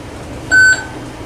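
One short, clear electronic beep from a Montgomery traction elevator sounds once over a quiet hum of background noise.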